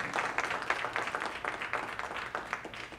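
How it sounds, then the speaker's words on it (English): A church congregation gives a short round of applause at a sermon on forgiveness, the clapping quick and scattered, moderately near, fading slightly toward the end. "Give her a hand clap."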